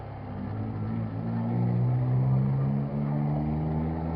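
Car with a broken, loose exhaust droning loudly and steadily at close range, its low rumble rising and swelling slightly in the middle without any talk.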